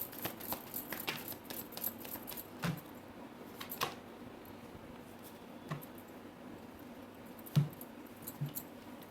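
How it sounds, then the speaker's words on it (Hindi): Playing cards are shuffled in several soft, quick riffle-like bursts with scattered sharp taps and flicks, close and fairly quiet in a still room, with no talking. "this is my last shuffle"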